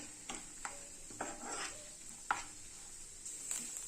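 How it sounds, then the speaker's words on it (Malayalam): Grated coconut is sautéed in a pan until golden for kadala parippu pradhaman, with a faint sizzle under repeated scraping stirs. Each stir comes at a loose, irregular rhythm. "ഈ തേങ്ങ ഒരു ഗോൾഡൻ കളർ വരുന്നത് വരെ ഇതൊന്ന് വഴറ്റി കൊടുക്കണം."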